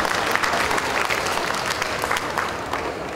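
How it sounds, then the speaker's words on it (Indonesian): Audience applause at a Jakarta Marketing Week 2013 speech, a loud, dense, steady burst of clapping from a large crowd filling a few seconds. "Boleh tepuk tangan Bapak Ibu sekalian."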